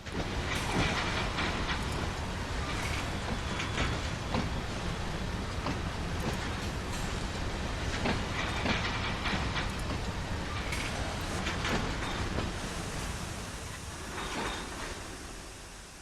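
Passenger train running on the Northeast Corridor route near New York in a railway simulation game, a steady, loud rolling rumble of wheels and carriage noise that continues without a break, with faint clatter and hiss.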